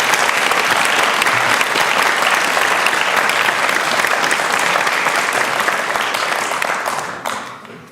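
Loud, dense audience applause fills a lecture hall after a set of three brainstorm talks, holding steady with no voices on top and then tapering off near the end.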